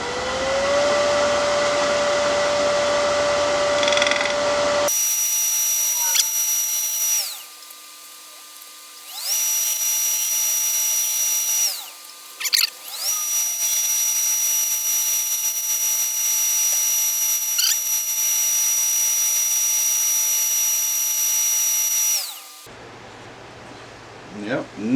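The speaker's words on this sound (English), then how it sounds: "I'll use the scraper to tighten it up. We're at about 1200 RPM right now" Wood lathe spinning a walnut bowl at about 1200 RPM while a scraper cuts, giving a steady high whine in several long stretches broken by short pauses, with quieter workshop sound at the start and end.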